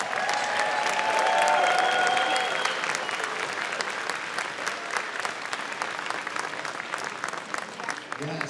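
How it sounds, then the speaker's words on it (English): Crowd at an elementary school beginning band concert breaks into sustained applause, many hands clapping steadily with a few whoops early on, heard fairly close and without talk over it. "Big round of applause."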